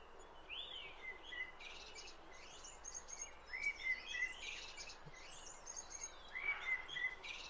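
Bird song from a tree, chirps and tweets repeating in a looped recording, faint and thin against a steady background hiss, with brighter bursts of calls recurring every few seconds.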